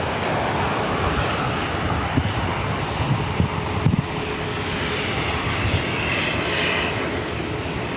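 Delta Air Lines Airbus A321neo from Salt Lake City on final to runway 24 right at LAX, its engines producing a loud, steady, broadband roar that holds for the whole stretch with slight swells and no talk.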